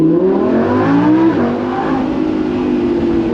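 Lamborghini Huracan Spyder engine revving hard from inside the car, a loud, dense roar that climbs, dips briefly at a gear change, then pulls on steadily with no talk.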